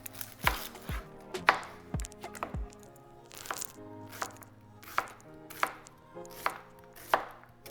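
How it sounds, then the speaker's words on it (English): Knife chopping a large onion on a cutting board, about a dozen crisp, close thuds in a loose, uneven rhythm with brief pauses between cuts and no talking. "So I'm gonna cut this one."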